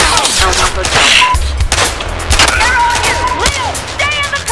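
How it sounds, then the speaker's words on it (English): Dense gunfire bursts and shots from a realistic PC shooter game, with a police-style shootout downtown, layered with car sounds and people shouting over the continuous loud firing. "We got reporting gunfire downtown."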